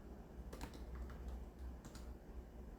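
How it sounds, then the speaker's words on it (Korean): Several faint keystrokes tap on a computer keyboard while a formula is typed into an Excel spreadsheet, followed by a press of the Enter key, against a low steady hum. "자, 이렇게 엔터를 누르면"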